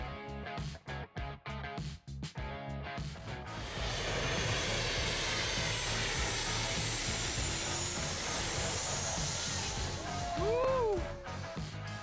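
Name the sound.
airplanes landing low over Maho Beach, St. Martin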